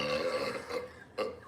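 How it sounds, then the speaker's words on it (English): A person burps after chugging cold beer, letting out one long, rumbling belch up close and then a short second burp at the end, with no talk over it. "That was a good burp, though."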